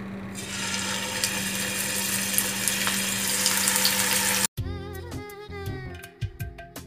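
Kingfish pieces sizzle in hot oil in a pan for a Kerala-style fish molly, a steady loud frying hiss that cuts off abruptly near the end, leaving scattered spits and crackles.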